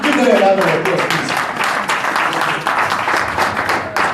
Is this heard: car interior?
no